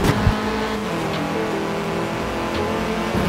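Audi race car engine roaring in Forza Horizon 4, revving steadily and loud throughout a race, with a brief tire-scrub burst at the start.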